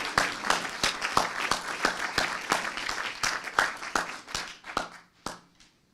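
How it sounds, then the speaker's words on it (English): An audience at a congressional district debate applauds the candidates with a burst of many hands clapping that gradually thins out into a few scattered claps before fading to quiet. "Let's give them a round of applause."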